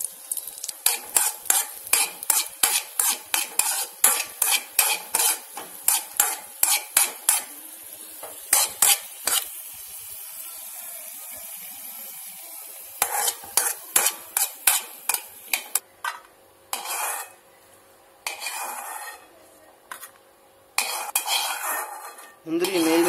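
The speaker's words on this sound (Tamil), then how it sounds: "முந்திரி நல்லா ரோஸ்ட் ஆகிற மாதிரி வணக்கிடுங்க" A utensil scrapes and clinks rhythmically against a pan as cashews are stirred and roasted, a steady run of close metallic strokes with a light sizzle beneath, pausing briefly midway, with no talking.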